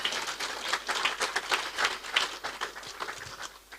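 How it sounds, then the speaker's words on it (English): Big round of applause from an audience at a leadership lecture marking a birthday in Nigeria, steady dense clapping throughout at moderate level, no talk over it. "Please give me a big round of applause."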